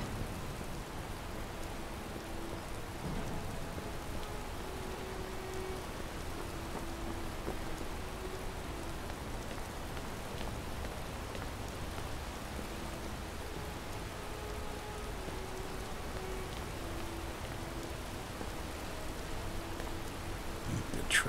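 Steady rain falling in modded Skyrim, a soft continuous hiss of drops pattering on surfaces with a faint low background hum, even and unbroken throughout with no voices.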